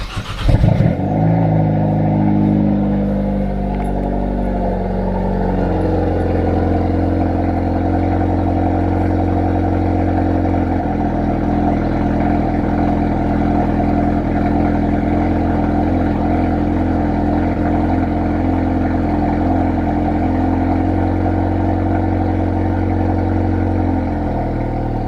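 Hyundai Veloster N with its exhaust valve open, engine running and revving steadily after sitting overnight, a loud continuous near rumble with shifting pitch that holds for the whole stretch without talk.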